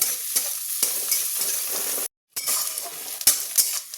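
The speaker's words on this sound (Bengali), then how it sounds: "আমার পেঁয়াজটা এবার ভাজা ভাজা হয়ে গেছে, গোলাপি রং ধরে নিয়েছে" Onions sizzle and crackle in a hot pan, frying until pinkish, with stirring scrapes and a brief silent gap midway before the frying hiss resumes.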